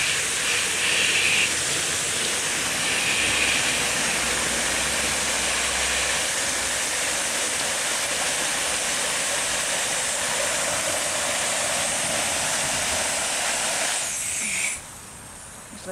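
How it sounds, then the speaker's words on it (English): A garden hose sprays water over freshly harvested sunflower seeds, a steady close hiss lasting about fourteen seconds before it cuts off. "Here's my hose, and we're going to rinse these guys off."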